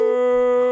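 A dog howls in one long, steady, sustained tone that stays loud and level throughout, with no talking over it.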